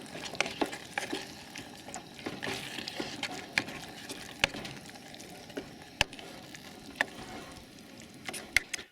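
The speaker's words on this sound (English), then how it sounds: "Throw that in there and give it a good mix and let it heat through for about a minute or so." A spinach dip mixture is stirred in a pan while heating, cooked outdoors in the mountains: a faint, soft sizzle broken by scattered sharp clicks of a utensil against the pan.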